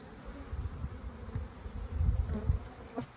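A dense, close drone of honeybees in a packaged hive swells and fades with soft handling bumps and no talking.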